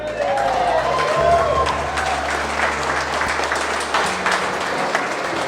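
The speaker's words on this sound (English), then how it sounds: "Round of applause for Meaghan right here." Wedding guests break into applause, a steady wash of clapping from a crowd that holds through the whole stretch, with some voices mixed in underneath.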